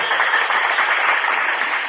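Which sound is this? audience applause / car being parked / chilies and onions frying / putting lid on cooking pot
audience applause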